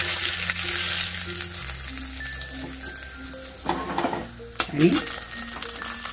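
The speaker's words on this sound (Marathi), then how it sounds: "मोहरी तडतडते." Mustard seeds crackle and pop in hot oil in a pan for tempering, with steady sizzling and stirring scrapes, plus a brief spoken word partway through.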